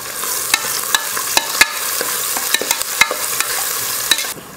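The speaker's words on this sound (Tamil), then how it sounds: "வெங்காயத்தை நல்லா வதக்கியாச்சு" Onions sautéing with green chillies and spices in a pan, a steady sizzle with frequent sharp clicks of a spoon stirring against the metal, close and loud, no talking.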